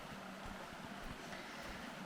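A small waterfall gives a continuous, even rush of falling water, with faint low thumps underneath and no talking.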